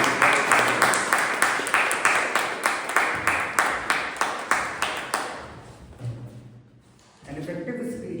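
An indoor audience at a Toastmasters club meeting gives a round of applause for a Toastmaster, with steady rhythmic clapping that fades and then stops, followed by a voice as talk resumes.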